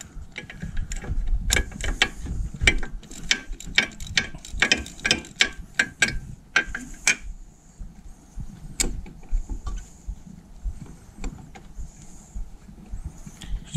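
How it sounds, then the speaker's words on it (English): A socket wrench ratchets on the spark plug of a Honda CBF motorcycle with no fairings removed, giving bursts of close, sharp clicking with short pauses, fading to sparser clicks later. "Just slide the socket in, there's just about enough room."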